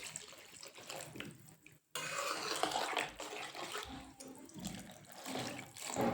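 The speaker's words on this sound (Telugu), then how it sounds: "మన గ్రేవీ ఎంత కావాలో అంత చూసుకొని నీళ్ళు వేసుకోవాలి." Water is poured into a pan of brinjal and potato curry gravy, a splashing, running pour heard close up in bursts with a brief break, with no talking.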